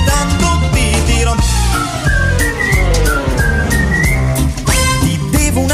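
A person whistles a tune loud and up close over a steady musical accompaniment, with a bouncy melody line through most of the passage.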